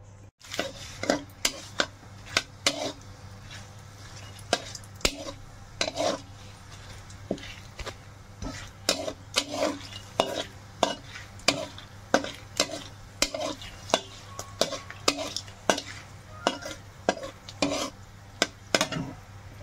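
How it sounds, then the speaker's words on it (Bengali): Cardamom, cinnamon, cloves and bay leaves crackle in hot oil for a pilaf, with repeated sharp clinks and scrapes of a spoon stirring in the pan throughout. "এবার আমি এর মধ্যে ফোড়ন দেবো এলাচি, দারচিনি, লবঙ্গ আর তেজপাতা"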